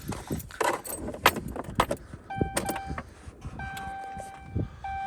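Keys jangle in quick rattling bursts, then a 4th Gen Cummins truck's ignition is turned and steady electronic warning chimes ring out inside the cab.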